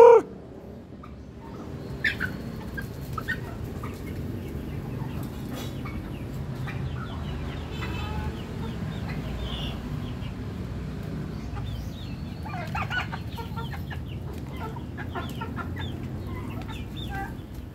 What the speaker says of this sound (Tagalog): andun yung isang male na pabo